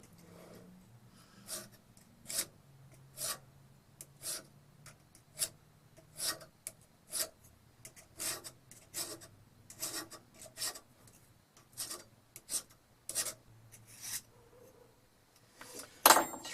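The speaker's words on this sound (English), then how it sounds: "this guy's got a couple burrs on it, so I'm gonna have to get these burrs off first" Hand file rasping burrs off a metal part of a vintage hand drill, in about twenty short, evenly spaced strokes, close and moderately loud, with a faint low hum underneath.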